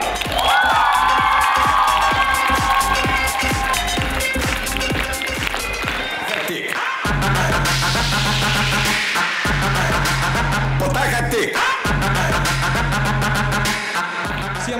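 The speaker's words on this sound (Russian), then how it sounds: "Бурными аплодисментами поприветствуем команду КВН «Легпро»." A studio audience at a KVN quarterfinal bursts into loud, sustained applause and cheering to welcome the team Legprom, a dense, unbroken roar of clapping and shouts filling about fifteen seconds.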